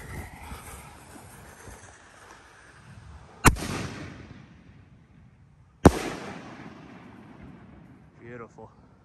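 A pair of booming aerial bursts from Snake Tail 5-inch canister shells by Pro Fireworks, spaced a few seconds apart, each with a crackling decay, over faint background noise and a short whistle near the end.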